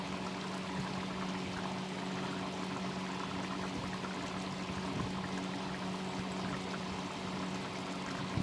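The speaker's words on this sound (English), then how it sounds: "Adding ghee, it will enhance the taste of this dal fry" Ghee pouring into chana dal fry, a steady soft liquid hiss with a low hum behind it, continuous and close, with no talking.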